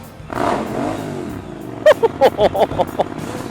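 A Triumph Street Twin motorcycle engine revs near a tunnel, a brief swell followed by a series of sharp, punchy throttle blips, loud and close.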